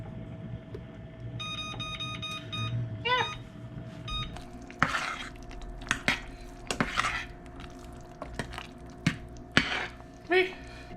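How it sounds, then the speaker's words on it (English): A spoon stirs homemade chili in a pot, scraping and knocking against the sides in irregular bursts close up, with a steady background hum and a few electronic beeps early on. "We're gonna stir it."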